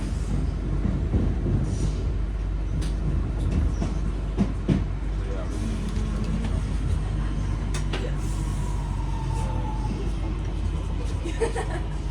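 Northern train pulling into Salford Crescent station, a steady low rumble with faint rail clatter and a few squeaks from the carriage, heard from inside as it slows. No voices are heard.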